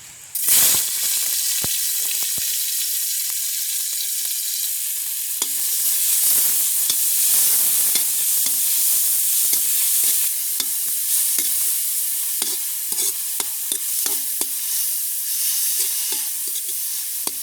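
Greens sautéed in a hot pan in a village kitchen give a steady, soft sizzle and hiss throughout, with occasional faint stirring scrapes and taps of a utensil.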